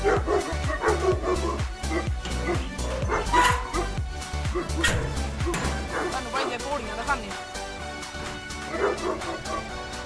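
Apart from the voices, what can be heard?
dogs barking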